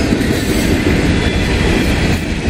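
Freight train hauling coke cars behind an SD70ACe locomotive rumbles past close by, a steady loud roar of wheels and cars with faint clickety-clack throughout.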